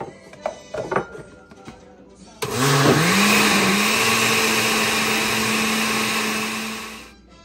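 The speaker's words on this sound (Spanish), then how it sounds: "ahora que licuamos esto, vamos a ingresarle lo que es la espinaca para también licuarlo junto" Spinach is blended into tomato sauce, starting with a few handling knocks, then a loud, steady whirring motor roar that rises in pitch as it spins up, holds for several seconds and cuts off.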